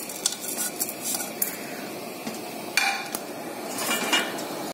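Urad dal stirred as it roasts in a pan, a spoon scraping and clinking against metal over a steady dry sizzle, close and continuous with no talk.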